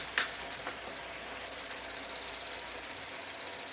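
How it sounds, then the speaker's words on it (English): A kitchen timer alarm rings from inside a closed drawer, giving a thin, steady high-pitched beeping that pulses in a fast regular rhythm, muffled and fairly quiet, with no talking. "That timer's going off in the drawer again."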